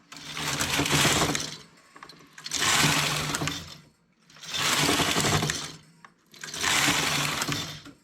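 A home knitting machine carriage swept back and forth across the needle bed in four passes, each a rattling, whirring slide that rises and fades with short quiet gaps between strokes.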